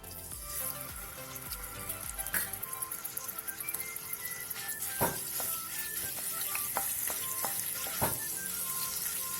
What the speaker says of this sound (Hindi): यहाँ पर तेल गरम हो गया है, और सबसे पहले मैं यहाँ पर 1 चम्मच अदरक लहसुन का पेस्ट डाल रही हूँ।